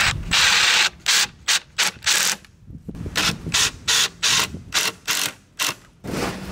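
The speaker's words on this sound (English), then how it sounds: "and then we're going to screw it together." A wooden skirting board is screwed together on a homemade archery target, giving loud, rhythmic ratcheting bursts with short gaps between them and no talk.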